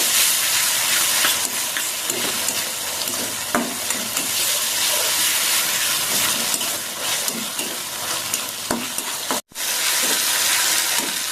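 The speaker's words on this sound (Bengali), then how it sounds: "মশলাটা একটু ভাজা হয়ে গেছে" A paste of ground ginger, garlic and four green chilies sizzles loudly in hot oil, with a constant hiss broken by occasional spoon scrapes and a brief silence near the end.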